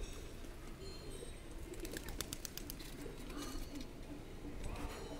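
Faint pigeons coo softly in low, repeated notes against a noisy background at a holy site in Malinithan, Likabali, Arunachal Pradesh, with some light rustling and scraping.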